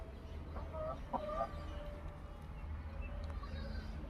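Several short, pitched clucks from two hens sitting to lay eggs in the first half, close by, over a steady low background hum, fading to quieter noise afterward.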